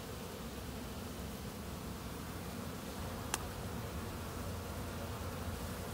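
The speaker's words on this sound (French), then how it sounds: "il y a beaucoup d'activités sur cette ruche-là" A dense, steady hum of many honeybees swarming around a very active hive on an October day, the buzzing continuous and close throughout with a single faint click midway.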